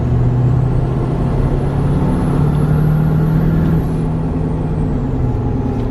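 A Cummins Titan diesel truck engine fitted with a new intake and an oil separator catch can runs loud and close: a steady, deep drone with a thin high whistle that rises and then fades.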